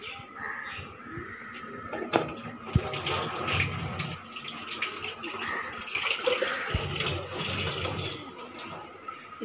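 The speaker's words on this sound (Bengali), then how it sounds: "এটা ধুয়ে পানিটা দিয়ে দিলাম।" Water runs and splashes steadily in a home kitchen sink as a blender jar is rinsed out, close and moderately loud, with a few sharp knocks of the jar along the way.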